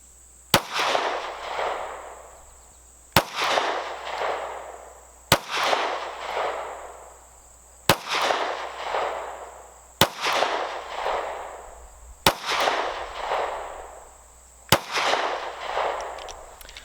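Seven shots from a Ruger LC9 9mm pistol, fired one at a time about two seconds apart, each a loud, sharp crack that decays over a long echoing tail.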